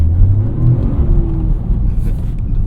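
Toyota GR Corolla engine revving hard as the throttle is stabbed, a loud steady low rumble that swells and holds through the moment, close and dominant with no talk.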